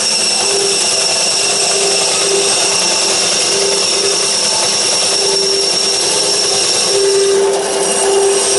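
Loud, continuous whine of a bandsaw running steadily through wood, close up, with a constant mechanical drone and no pauses.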